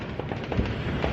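Illegal fireworks on the Fourth of July crackle and pop in a quick run of several sharp bursts, fairly close and with no one talking.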